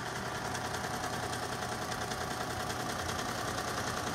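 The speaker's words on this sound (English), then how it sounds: "We're sewing a hat." An embroidery machine sewing a hat, giving a continuous fast mechanical whir and rattle, steady and fairly loud at close range with no voices.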